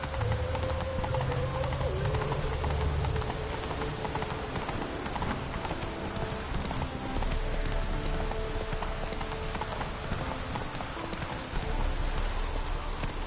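Horse hooves gallop in The Witcher 3: Wild Hunt, a dense, continuous clip-clop under rain-like game ambience and music, steady and loud throughout.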